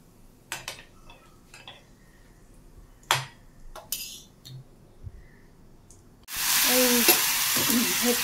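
Cumin seeds drop into hot mustard oil for ghugni after a few quiet utensil clinks, setting off a sudden loud, close, crackling sizzle that keeps going steadily.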